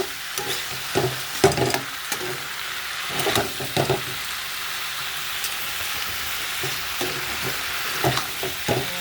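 Fish roe frying together with bitter gourd, pumpkin and potato: a steady sizzle runs throughout, broken by a handful of sharp spatula scrapes and knocks against the pan at irregular intervals, close and fairly loud, with no talking.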